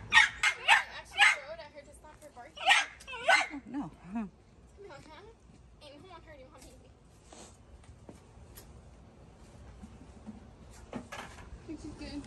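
A dog barks close by in sharp, loud bursts at the start, then quieter yips and whimpers follow while people talk.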